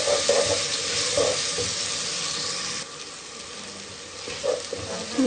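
Chili, turmeric powder and salt frying in a pan as a spice masala, with a steady loud sizzle running throughout and occasional stirring scrapes.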